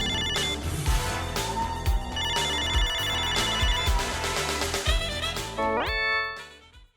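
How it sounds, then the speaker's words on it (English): A video phone rings in the 1994 Sega CD game Snatcher: a loud, steady electronic ringtone that repeats for several seconds and ends in a rising synthetic sweep. "Video phone calling the wife."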